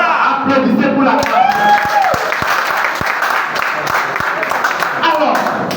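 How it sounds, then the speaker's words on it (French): A crowd applauds loudly and continuously, with scattered cheers and whoops, while a voice talks over the clapping. "Applaudissez pour la classe."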